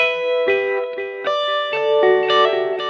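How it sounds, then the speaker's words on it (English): Electric guitar chords through a plugin reverb effect, ringing out with lush reverb, each strum sustaining and blurring into the next, loud and close. "I turned on the reverb."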